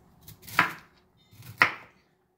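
A knife chops through cauliflower on a cutting board in two crisp, separate strokes about a second apart. Each cut ends in a sharp thud, close and fairly quiet, with nothing else in the background.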